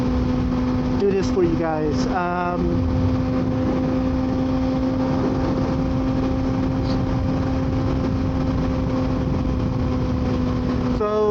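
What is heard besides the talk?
Kawasaki ZX6R motorcycle engine running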